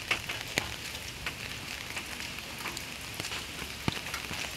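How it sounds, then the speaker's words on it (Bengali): Steady rain falling outdoors in a village, a constant hiss with scattered sharper drip and splash ticks, fairly close and alone without talk. "বৃষ্টি তো কমেই না রে"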